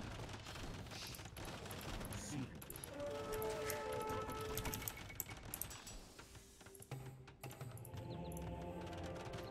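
Arquebus gunfire crackles in rapid volleys during an Age of Empires II battle, faint and mixed with clattering mechanical game effects and other battle noise.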